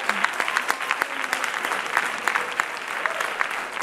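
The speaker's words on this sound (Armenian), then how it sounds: "Ես կարծում եմ այս ծափահարությունները քոնն են։" An audience at a televised dance competition gala claps steadily, dense applause holding at an even level throughout without pause.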